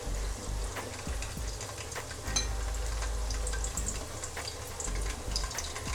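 Potato pieces frying in hot oil for a Bengali-style mutton curry give a steady, close sizzle and crackle that runs unbroken from start to finish, with no talking.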